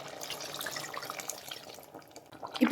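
Water is poured into a pot of goat head curry, a soft trickling splash under low kitchen noise, ending in a brief louder slosh.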